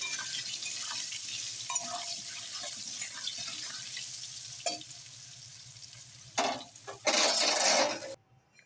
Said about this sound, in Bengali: নুন আর হলুদ গুঁড়ো দিয়ে আমি আলুটাকে ভালো করে ভেজে তুলে নেব